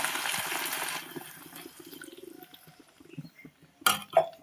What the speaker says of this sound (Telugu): కలుపుకున్నాక వాటర్ వేసుకోవాలి.